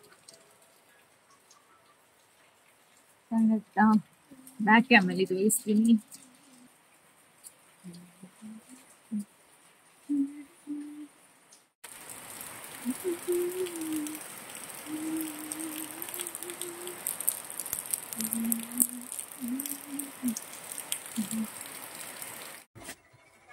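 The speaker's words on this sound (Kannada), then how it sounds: "ಫುಲ್ ಮಳೆ ಬರ್ತಾ ಇದೆ ನೋಡಿ" Steady rain hiss fills the second half, broad and fairly loud, after a quieter stretch; a voice talks briefly early and again over the downpour.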